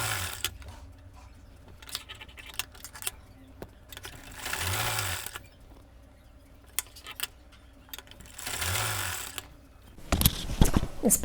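A sewing machine stitches cord piping onto a blouse in two separate bursts of whirring stitching, with quiet handling and a few ticks in between.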